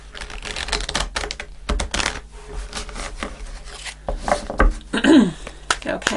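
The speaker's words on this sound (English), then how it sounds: "I'm going to shuffle one more time." Tarot cards are shuffled in quick, irregular riffling bursts with flicking and tapping, close up, while a person speaks softly at times.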